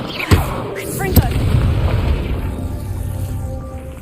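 A Confringo spell in Hogwarts Legacy fires off with two sharp blasts in quick succession, followed by a rumbling, lingering boom over a steady ambient background.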